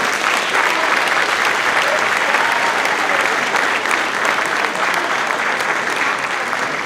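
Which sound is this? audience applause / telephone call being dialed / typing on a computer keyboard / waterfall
audience applause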